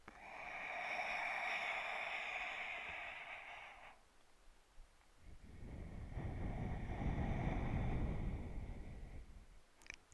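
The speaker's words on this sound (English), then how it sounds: "slight constriction of the back of the throat will create this wind tunnel sound" Ujjayi breathing through a slightly constricted throat: a long airy hiss on the inhale, a pause, then a deeper, rougher wind-like rush on the exhale, close and steady with no talking.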